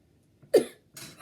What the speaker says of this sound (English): it's just I have a bit of kind of like cough.